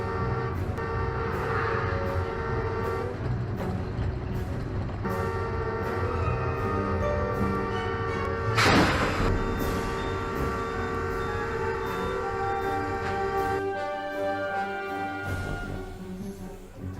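A high-speed train approaching, a steady loud rumbling roar with tonal mechanical whine that builds toward a sharp burst midway before continuing on.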